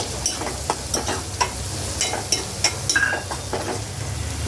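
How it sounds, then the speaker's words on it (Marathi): A spoon stirs dry masala in a pan during Holi cooking, making repeated scraping and clinking strokes over a soft continuous sizzle, close by with no talking. "चांगलं मिक्स करून घ्यायचं"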